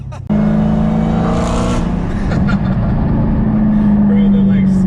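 Dodge Hellcat tires squealing during a rolling 40 mph pull on wet pavement, a loud sustained screech over the heavy engine roar that continues for several seconds close by.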